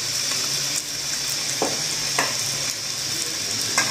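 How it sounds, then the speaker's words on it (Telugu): Mutton pieces fry in a pan with chili powder over medium flame, a constant loud sizzle broken by several sharp stirring scrapes spaced about a second apart. "కొంచెం వంట మీడియం ఫ్లేమ్ పెట్టుకొని బాగా ఫ్రై అయిపోవాలి ఇది."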